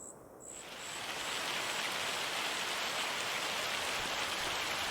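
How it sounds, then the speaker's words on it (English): Rain in the video game Farming Simulator 25 swells in after a faint high tone and settles into a steady, even hiss that fills the scene. "Oh no, it's raining."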